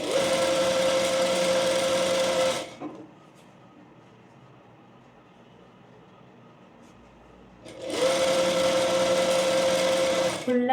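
A sewing machine stitches the edge of a blouse dart in two loud, steady runs of about two and a half seconds each, separated by a quieter pause of fabric handling and low room noise.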